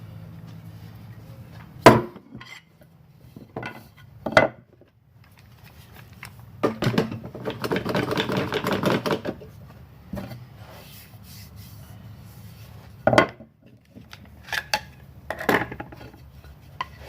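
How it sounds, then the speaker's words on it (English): A Mora knife working the edges of a wooden competition throwing hawk, giving scattered sharp knocks and a longer scraping, rasping stretch of shaving, up close with quiet gaps between strokes. "I'm just using my Mora black here to do this, to chamfer these edges."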